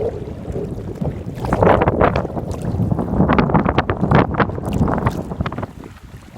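Strong wind buffets the rocks at Anglesey on the sea shore, loud gusty rushing and microphone buffeting that rise and fall over several seconds.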